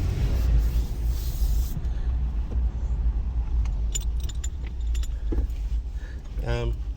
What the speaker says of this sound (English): I'm gonna make a U-turn.